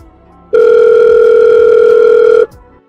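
A telephone gives one loud, steady electronic tone lasting about two seconds that starts and stops abruptly, with quiet background before and after.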